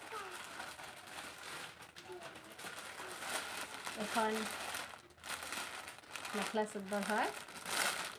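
Plastic packaging of an online-ordered parcel crinkles and rustles in short bursts as it is handled and opened, running under a person talking throughout.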